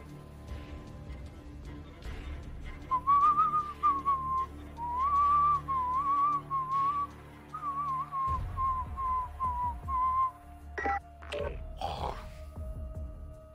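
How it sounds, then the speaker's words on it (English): A person whistles a wavering, tuneful line for several seconds over low rumbling background noise while playing Call of Duty: Modern Warfare, followed by a few sharp clunks. "the reason why I keep whistling is because I think I am not loud"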